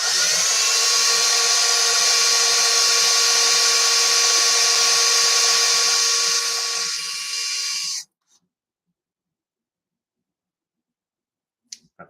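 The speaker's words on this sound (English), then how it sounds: "we're drilling the holes for the variable over here, and then the main power switch for over there" A power drill runs continuously for about eight seconds while holes are drilled during a building job, a steady high whine that suddenly stops, followed by silence and a couple of faint clicks.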